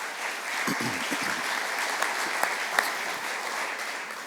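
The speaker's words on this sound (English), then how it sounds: "Please give them a round of applause." Audience applause at a luncheon during an athletics hall of fame ceremony, steady dense clapping from a room of guests with a few sharper claps standing out, sustained throughout.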